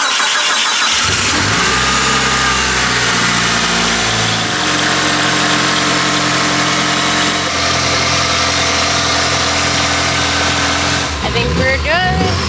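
A Mitsubishi Evo 5 with a freshly upgraded turbo cranks briefly and fires up, then settles into a loud, steady idle with a slight change in tone partway through, ending with a short burst of voices over the running engine.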